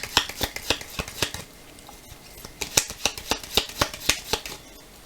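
A deck of oracle cards is shuffled and cut by hand, with quick papery riffles and taps in two rhythmic bursts, crisp and close with no talk.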